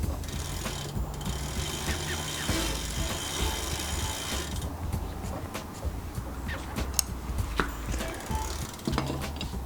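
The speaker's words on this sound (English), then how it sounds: "you're going to want to use a 15mm wrench to tighten the pedal" A 15mm wrench tightens a pedal on a trail-a-bike, giving a few faint ratcheting clicks among low background mechanical noise and occasional sharp metallic taps, with no talking.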